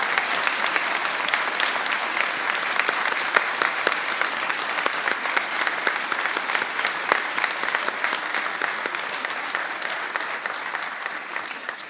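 Sustained applause from a seated audience honouring a graduating veterinary class at a white coat ceremony, a dense, even wash of many hands clapping at steady loudness for about twelve seconds, with no voices over it.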